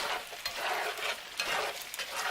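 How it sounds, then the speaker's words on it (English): Diced garlic sizzling in a hot frying pan, a continuous crackling hiss with brief stirring scrapes, fairly quiet and close. "Today I'm going to be throwing in some diced garlic"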